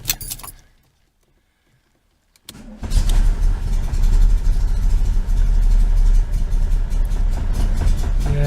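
A 1973 VW Super Beetle with a Dellorto carburetor, run out of gas, cranks briefly after a short silence, then fires and settles into a loud, steady, rough idle with no talk over it.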